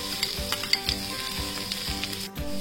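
Onions frying in oil in a pan, a steady close crackling sizzle with small pops and occasional stirring scrapes, no voices.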